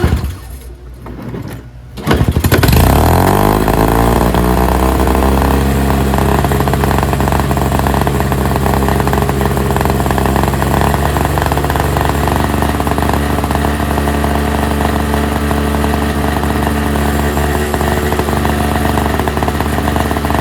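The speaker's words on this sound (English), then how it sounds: "I'm going to try to pull start and see if it runs" A NOMA 4.5 two-stroke single-stage 21-inch snowblower engine catches after a pull start and runs loud and steady on choke, a continuous buzzing drone that holds from the first seconds to the end with no talk.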